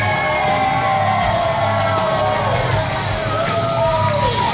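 Wrestling arena crowd at an East Stroudsburg, Pennsylvania show, a loud continuous roar of cheering, whoops and yells filling the space, with clapping blended into the steady noise.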